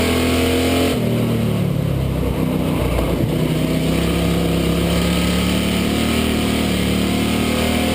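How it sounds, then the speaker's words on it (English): Stock cars lapping the high-banked oval at Wall Stadium Speedway during a Factory Stocks race, a dense, continuous roar of several engines droning and revving close by throughout, with no talk. "Lap car running the backstretch in front of the leaders as they go around the outside."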